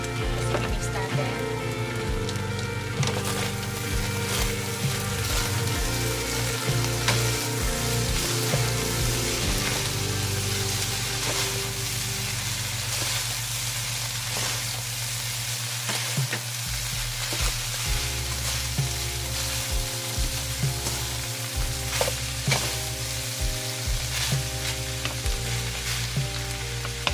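Beef giniling with mixed vegetables sizzles steadily in a hot pan while being stirred, with scattered utensil scrapes and clicks over a continuous frying hiss and a low hum throughout.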